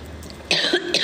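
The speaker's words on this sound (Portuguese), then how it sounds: "Tô com muita tosse." A person with a heavy cough during a live stream coughs twice, close and fairly loud: a harsh burst at about the midpoint and a shorter one at the end, after a quiet lead-in.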